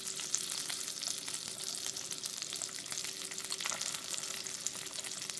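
Duck breast searing in a hot pan, a dense, steady crackling sizzle with quick pops that runs throughout at moderate volume, no talking.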